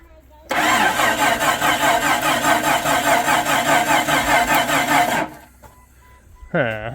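A rebuilt 1999 Jeep Cherokee engine cranks and catches for its first break-in run, a loud, close, steady mechanical clatter lasting several seconds before it cuts off abruptly, followed by a brief rising whine.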